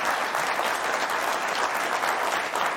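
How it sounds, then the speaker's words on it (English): Steady applause from a seated audience at a health policy event, dense and continuous for about three seconds with no pauses. "we got to give them a round of applause"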